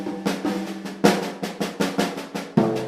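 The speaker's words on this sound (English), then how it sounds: "He takes the single paradiddle and plays it around the drum set." A single paradiddle is played around a drum set, with the left hand on the snare and the right moving between drums, giving quick, even strokes and sharper accents at a steady rhythm, close and without talk.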